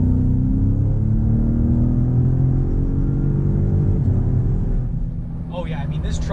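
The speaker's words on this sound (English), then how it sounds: "I noticed that it actually got a little bit louder, the truck itself" Engine of a 2018 Ford Raptor truck in sport mode, a steady deep rumble heard from inside the cab, holding loud and even throughout, easing slightly near the end as a voice briefly speaks.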